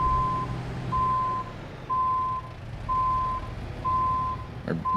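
Truck reverse beeper in American Truck Simulator: five evenly spaced long tonal beeps over a low idling diesel rumble, with a brief clunk near the end.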